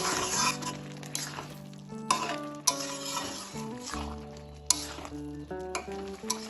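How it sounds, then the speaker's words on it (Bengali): A spatula stirs fried cauliflower through vegetable rice in a pan, scraping and clinking in uneven strokes with a soft sizzle, while steady tonal music plays underneath. "এবার আমি এর মধ্যে যে ভেজে রেখেছিলাম ফুলকপিগুলো, সেই ফুলকপিগুলো দিয়ে দেব। ভালোভাবে ফুলকপিটাও এর সাথে মিশিয়ে নেব।"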